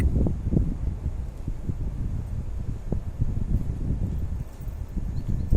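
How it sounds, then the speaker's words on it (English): Gusty wind buffets the microphone with low rumbling bursts and rustling, steady throughout with no voices. "It's quite windy all of a sudden."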